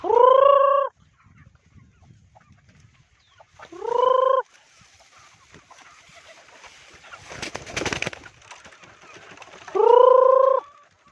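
Loud, close harmonic bird calls, a few separate cries spaced several seconds apart, from pet pigeons and barred rails, with faint rustling between them.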